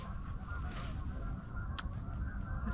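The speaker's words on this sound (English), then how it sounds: "Those birds are making a racket, aren't they?" Geese or other waterfowl honk and squawk in a loud, continuous racket along a muddy riverbank during mudlarking, filling the whole stretch with overlapping calls and no talking.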